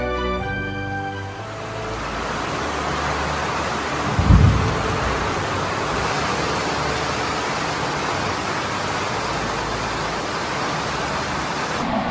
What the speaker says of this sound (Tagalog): Inabutan tayo ng sobrang lakas na ulan